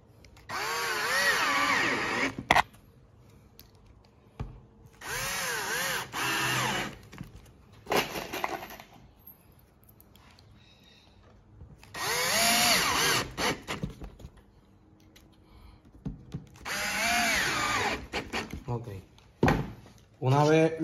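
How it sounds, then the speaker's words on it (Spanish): A power drill drives screws to fix a wooden template for cutting a lazy Susan floor and top, several loud whirring bursts with pauses between them and clicks and handling noises in the gaps. "La voy a coger con tornillo para que no se me vaya a mover."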